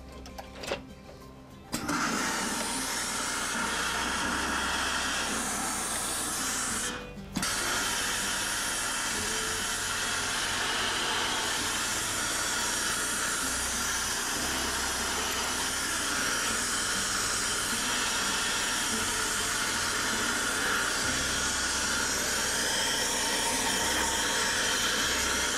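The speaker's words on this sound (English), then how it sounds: "The blocking machine, when we put it underneath here, we'll grab the brim, we'll steam it up and pull it out." A hat blocking machine steams a felt hat brim, giving a loud, continuous hiss and mechanical whir that starts after a brief quieter moment, cuts out for an instant, then resumes steadily.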